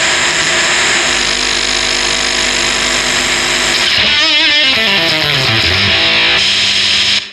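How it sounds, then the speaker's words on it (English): Dense, buzzy distorted octave fuzz pedal noise fills the clip, then, with the guitar volume rolled down, shifts into warbling, sputtering textures that sweep downward before cutting off abruptly. "as you turn the volume down, you get all these different kind of noise textures creeping in"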